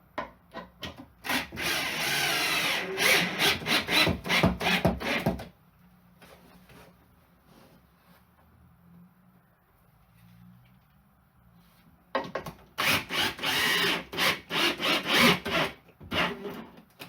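Wooden door frame for a vocal booth being forced into its opening, giving bursts of loud rubbing, scraping and knocking wood for about five seconds, a quiet pause, then another stretch of creaking, grinding friction near the end.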